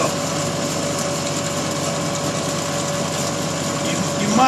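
A horizontal band saw cuts through thick steel with lubricant running over the blade, giving a steady, continuous grinding and ratcheting drone with a thin tonal whine held throughout, close and alone.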